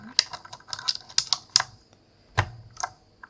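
Plastic keycaps on a Razer RGB keyboard are handled up close in a quiet room. Irregular crisp clicks and taps come in small clusters, with a few soft thuds and pauses between them.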